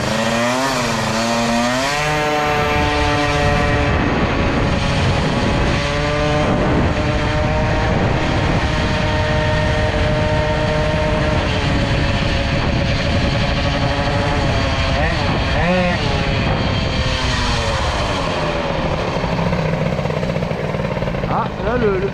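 A boosted Peugeot 103 moped with Doppler parts, its two-stroke engine buzzing loud and close throughout, with several sharp revs that rise and fall in pitch over a steady high idle.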